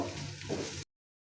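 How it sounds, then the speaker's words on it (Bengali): Two large chopped onions frying in hot oil in a wok, a close, steady sizzle that cuts off abruptly partway through. "পেঁয়াজ কুচিটাকে আমি হালকা ব্রাউন করে ভেজে নেব"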